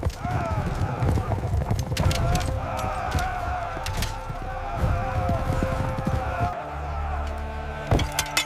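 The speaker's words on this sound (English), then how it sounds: "Day after day, horse archers charged the Greek lines." Rhythmic hoofbeats of galloping cavalry horses clatter loudly beneath a dense layer of voices and battle noise, with sharp impacts scattered throughout, in a depiction of Persian horse archers charging Greek lines at Plataea.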